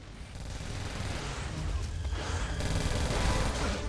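Gunfire rattles through a dense, noisy battle scene in the video game Onimusha 3, loud bursts blending into a continuous crackling din that swells toward the end.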